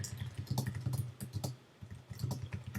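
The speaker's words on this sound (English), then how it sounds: "So I can just type in something." Typing on a computer keyboard in an online office document, quick irregular clicks in bursts with a brief pause midway, close and clear with no voices.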